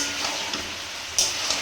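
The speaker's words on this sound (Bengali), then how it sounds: "এবার ভাজা ভাজা হতে থাক" A vegetable curry, its water cooked off, fries in a pan on low heat, giving a steady close hiss and sizzle with a couple of brief louder crackles.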